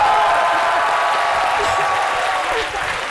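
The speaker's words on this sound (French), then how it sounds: "que je vous demande d'applaudir très fort" Loud, continuous applause from a television studio audience welcoming a guest on a midday talk show, dense and steady before tapering slightly near the end, with faint voices beneath.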